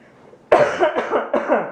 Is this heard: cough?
yes